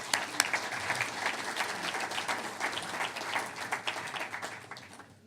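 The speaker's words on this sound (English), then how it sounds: "Let's give them a round of applause" Applause from the audience at a community public talk, a dense wash of many hands clapping at steady strength for about five seconds before it tapers off at the end.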